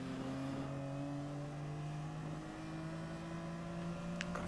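BMW saloon race cars slide through the turns at Kirkistown circuit in a Northern Ireland saloon race, their engines a steady, close droning roar that shifts pitch midway, with no talking.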